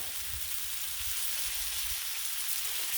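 Tri tip searing on a flat Blackstone griddle, giving off a dense, even hiss of sizzling fat that holds steady and close for a few seconds, with no voices over it.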